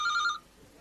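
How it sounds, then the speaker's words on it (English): A telephone bell rings loudly in a rapid electric trill for about a third of a second, then cuts off, leaving a quiet room with faint low murmuring. "It's the phone's ringing."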